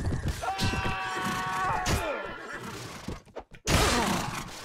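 A horse whinnies after being struck in a medieval battle in Mount & Blade Warband, a loud, wavering neigh with clip-clop and thuds around it, then a sharp break and more battle noise.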